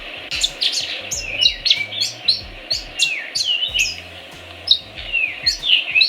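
Weaver birds chirp busily in a continuous run of quick, high tweets and short trills, several birds calling close by over faint low background rumble.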